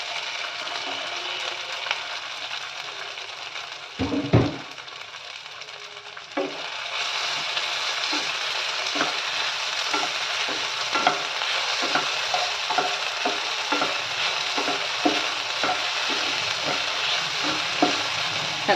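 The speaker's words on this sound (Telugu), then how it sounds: "సగ్గుబియ్యాన్ని ఆయిల్లో మనం ఒక 2 మినిట్స్ దాకా బాగా ఫ్రై చేసుకోవాలి." Soaked sago pearls fry in hot oil with a steady close sizzle that swells partway through, broken by regular scraping and clacking strokes as they are stirred.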